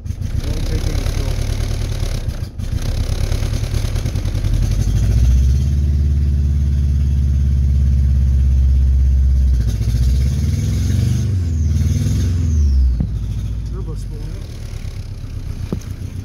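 Old engine with bad fuel and plug injectors running after a hard start, a loud close clattering idle that surges and settles with throttle changes, with a voice speaking over it.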